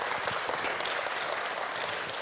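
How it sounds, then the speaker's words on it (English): Audience applause at an India IPO celebration event, a dense, even roar of many hands clapping at once, steady and loud throughout the short stretch. "Can we have applause for him?"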